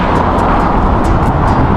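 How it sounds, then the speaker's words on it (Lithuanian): A steady, loud roar of road traffic, engines and tyres blending into continuous noise with no voices. "Eismas va toks aplink Rygą."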